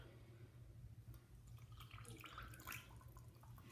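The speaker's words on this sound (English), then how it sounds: "I'm about to pour it in the baking soda" Urine being poured into baking soda for a home gender test, a quiet liquid pour with soft fizzing and trickling, faint and steady over a low background hum.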